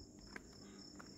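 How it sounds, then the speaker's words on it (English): Crickets chirp with a steady, high, continuous trill at 3 am outside Hotel Sylvia in Indonesia, quiet and somewhat distant, with a couple of faint clicks and shuffles nearby. "Crickets."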